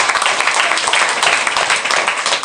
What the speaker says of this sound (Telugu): ఒక్కసారి చప్పట్లు కొడదామా?